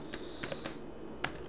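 Fingers type on a computer keyboard in short bursts, a handful of crisp, close key clicks separated by brief pauses, heard alone without speech.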